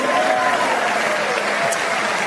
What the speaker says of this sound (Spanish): Ahora aplauden